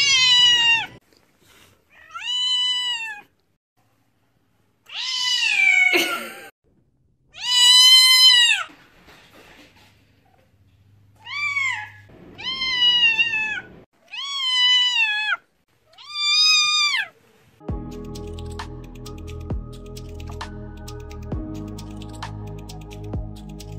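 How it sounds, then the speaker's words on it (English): A deaf cat meowing repeatedly when her owner greets her, loud, close, drawn-out and somewhat strained cries in a series of about ten calls, followed by background music at the end. "This cat is completely deaf, so she's always surprised when her owner greets her."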